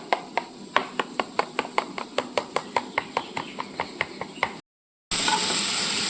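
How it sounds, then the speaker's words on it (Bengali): A spoon whisks curd into a mustard-poppy seed paste in a bowl with a steady run of sharp, evenly spaced taps against the sides. A brief silence follows, then a burst of loud, dense noise. "ভালো করে ফেটিয়ে নেব।"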